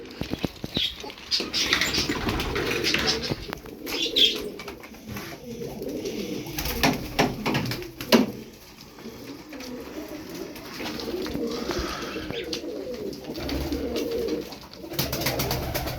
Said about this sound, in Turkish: Kanat sesi hoşuma gitmedi bu kuşun.